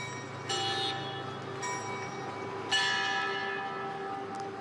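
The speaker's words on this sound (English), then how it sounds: "I hear bells ringing" Church bells ring in a square in Kyiv, with repeated bright, sustained strikes that layer and decay over one another at moderate distance, heard alone.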